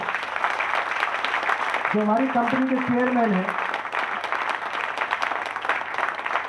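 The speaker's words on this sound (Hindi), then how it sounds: "मैं चाहूंगा जोरदार तालियां" An audience at a company speech event at a grill venue gives a strong round of applause, steady dense clapping under someone speaking over it, with the clapping holding loud throughout.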